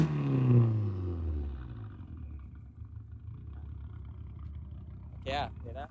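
Modified Proton Satria car engine revs hard and loud at first, then drops to a low idle rumble, followed by two short sharp bursts near the end.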